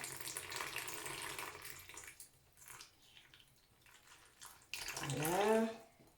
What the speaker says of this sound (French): on va l'arroser.